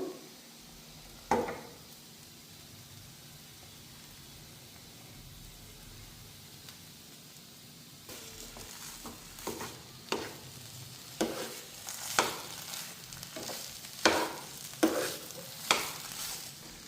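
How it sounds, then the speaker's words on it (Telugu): Mashed potato filling for Maharashtra-style vada pav, mixed with salt in a pan on the stove, gets stirred in a run of sharp scraping strokes over a faint background hiss, the strokes growing steadier and more frequent toward the end. "సాల్ట్ కూడా వేసుకొని మొత్తం అంతా 2 మినిట్స్ వరకు బాగా ఫ్రై చేసుకోవాలి"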